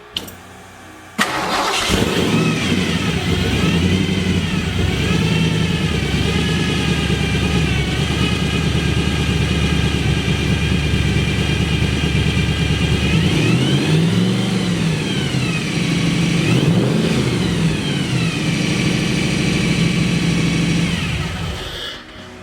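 Cobra car engine firing up after a brief crank, then idling loudly and being revved in several rising and falling swells, close and alone without talk.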